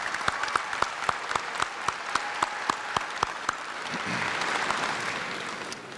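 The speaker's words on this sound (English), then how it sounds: "please give one more round of applause" At a New Orleans graduation ceremony, one pair of hands claps sharply and evenly at close range, then a softer, denser round of audience applause swells briefly and fades.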